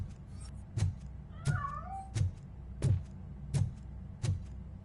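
A cat meows in Call of Duty on PS5, one clear rising and falling call amid a steady series of evenly spaced heavy thumps and footstep-like impacts over a low rumbling background.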